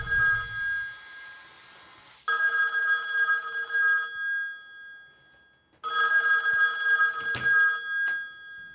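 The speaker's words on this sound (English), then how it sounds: "Why didn't you answer the phone?" A telephone bell rings indoors in two long bursts separated by a pause, loud and steady with no one talking over it.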